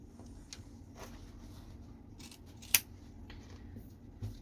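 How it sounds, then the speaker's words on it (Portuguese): Small scissors snip away excess fabric beside a seam on a sewn fish-shaped pot holder, giving a few faint scattered cuts with one sharper, louder snip near the middle. The room is otherwise quiet and no one speaks. "pega uma tesourinha bem boa"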